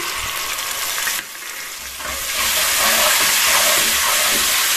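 Tomatoes hit hot oil in a pan while a fish curry with potato and cumin is cooked. A loud, steady sizzle dips briefly, then swells into a stronger, continuous hiss.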